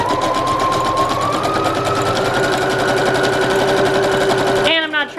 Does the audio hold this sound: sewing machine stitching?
yes